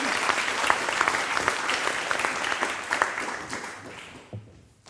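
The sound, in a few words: conference audience applause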